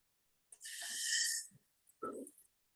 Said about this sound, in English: And then nice control breathing, no panting.